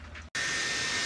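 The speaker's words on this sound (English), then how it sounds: "I'm gonna get a hair dryer because I am impatient and I wanna get these done as soon as possible." A hair dryer blows steadily close by, drying paint on a candle; it cuts in loudly after a brief silence and holds an even, broadband whoosh.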